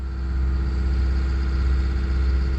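A truck engine runs steadily at idle during radiator testing, a loud, constant low rumble with no changes in pace.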